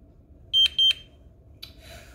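A Simon XT home alarm panel gives two loud, sharp high-pitched beeps close together, followed after a pause by a shorter, fainter chirp and a trailing rustle, over a quiet indoor background.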